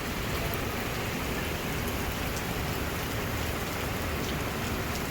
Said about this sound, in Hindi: ये देखें बारिश ये देखें बादल भी गरज रहे हैं